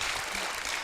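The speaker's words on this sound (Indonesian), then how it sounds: "tepuk tangan" Steady, dense clapping from a crowd, a continuous wash of applause filling the whole moment without any talking.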